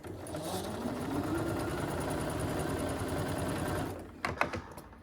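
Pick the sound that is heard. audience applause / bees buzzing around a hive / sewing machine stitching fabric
sewing machine stitching fabric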